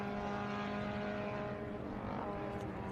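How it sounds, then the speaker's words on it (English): Race cars on the Road Atlanta circuit pulling hard out of turn 6, a loud sustained engine roar with steady harmonic whine held at close range for the whole stretch. "Now as they get on the throttle, that horsepower could come into play again here for Jacobs."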